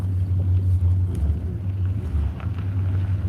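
A 1976 Cadillac Coupe de Ville engine rumbles low and steady from inside the car, a deep droning hum with slight wavering and faint road and wind noise over it.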